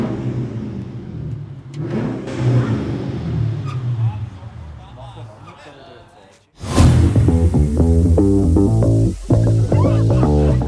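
A Mercedes SL500 with a 5-litre V8 runs quietly at first under a voice, then fires up loudly and revs with a deep, rough burble that holds strong to the end.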